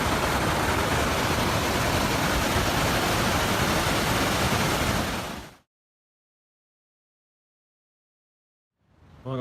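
A waterfall on the Pacific Crest Trail in the high Sierra produces a loud, steady rushing roar that cuts off abruptly after about five seconds, leaving silence before a brief return of sound.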